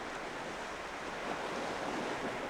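Sea surf rolling onto the Boryeong coast of South Korea's west sea, near Wonsando island, a steady broadband wash of breaking waves with some wind noise and no voices.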